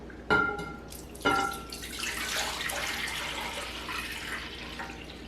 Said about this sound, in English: So now let's pour it in the punch bowl.